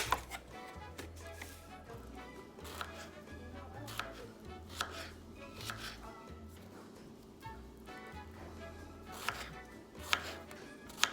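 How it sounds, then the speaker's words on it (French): A knife chops fresh strawberries on a cutting board for strawberry cheesecake muffins, a quiet series of irregular sharp taps over a steady low hum, with no speech. "Coupez les fraises."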